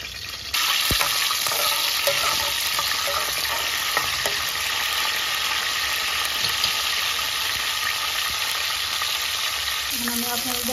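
Spice masala for chicken biryani fries in a hot pan with a loud, continuous sizzle that runs steadily throughout, with occasional soft clinks and no talking.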